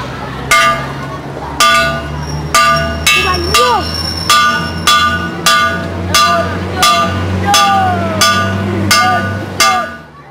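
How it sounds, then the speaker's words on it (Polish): A schoolyard bell made from a car wheel rim is struck about a dozen times at a steady pace, each loud metallic clang ringing out, with voices faintly in the background. "Podwórkowy dzwon szkolny, zrobiony z felgi samochodowej, ogłasza przerwę."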